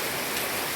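Rain falling onto a path outdoors, a brief, constant wash of pattering drops, near and even.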